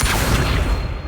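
Casting Accio in Hogwarts Legacy gives a short, loud, full-bodied burst with a heavy low thump that rushes out and then tapers away within about a second.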